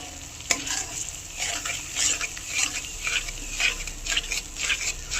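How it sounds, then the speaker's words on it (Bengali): Masala with ground tomato and cashew paste fries for a soybean dish, giving a soft, bubbly sizzle broken by repeated scraping stirs of a spoon against the pan. "এবার খুব ভালো করে মশলাটা কষাবো"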